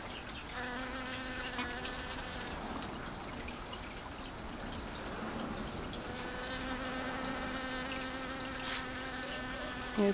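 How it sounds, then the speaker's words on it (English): A bee buzzing close by while collecting pollen from corn tassels in a garden, a steady insect drone rising and fading as it moves among the flowers. "Oh, there's a bee collecting corn pollen."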